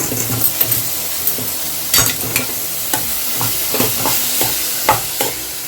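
A spoon scrapes and clinks through a cooking mixture with ghee in a pan, the irregular stirring strokes sounding close over a continuous soft sizzle, with no talking.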